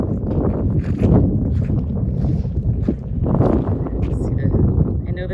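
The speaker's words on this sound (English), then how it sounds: "It's a little windy out." Wind rushes and buffets around a car with its moon roof open at Red Rock Canyon State Park, California, a loud, continuous gusting roar rising and falling under people talking.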